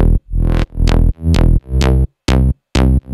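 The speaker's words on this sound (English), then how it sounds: "So here's what the bass sounds like on its own." Synthesized slap house drop bass from a remix of a Christmas pop song, played solo as a loud, punchy pattern of about seven short plucked notes with brief gaps between them.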